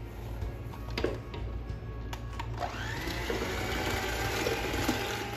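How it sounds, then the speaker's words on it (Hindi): Electric hand mixer beating cake batter for a chocolate marble cake, a continuous whirring motor drone with occasional clinks of beaters against the bowl, close and steady without talk. "तो चलें हम इसको बीट करते हैं।"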